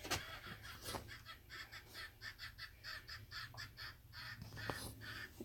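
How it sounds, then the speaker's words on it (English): Chickens cluck and squawk faintly outdoors in a quiet, repeated pattern of short calls over low background hum. "now we can hear the chickens and the wind chime"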